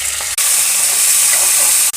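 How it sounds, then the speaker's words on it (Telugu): Pieces of ivy gourd hitting hot oil in a pan, a loud steady hiss and sizzle held close to the mic, with no talking. "ఇప్పుడు మనం కట్ చేసిన దొండకాయ ముక్కలు వేయాలండి"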